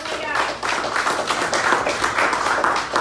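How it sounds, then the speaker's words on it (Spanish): A church congregation clapping in applause for the Lord, a brief burst of many hands mixed with voices. "Dale un aplauso al Señor"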